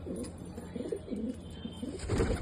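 A young domestic pigeon from a home loft coos nearby in low, throaty, repeated phrases, with a slightly louder burst near the end.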